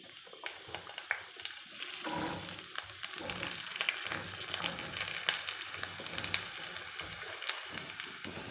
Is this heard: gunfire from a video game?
no